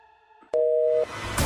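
A phone line gives a busy signal when a call fails to connect: a loud, steady electronic tone lasting about half a second, then cutting off. Background room noise continues around it, and there is no speech.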